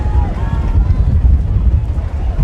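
Strong wind gusts buffet the microphone at an outdoor high school football game, a loud continuous low rumble with faint voices in the background.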